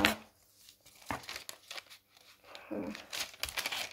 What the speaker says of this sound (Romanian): Și acum o să tai așa.